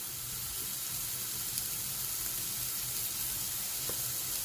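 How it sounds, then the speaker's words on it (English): Bacon sizzling in a frying pan while cooking breakfast, a steady, continuous crackling hiss with occasional sharper pops, fairly close and alone without talk. "Get that bacon sizzling. There we go. That famous bacon sizzle."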